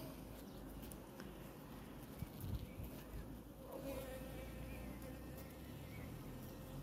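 Honeybees buzz around their queen at an open hive, a steady, fairly faint droning hum that carries on throughout with small swells.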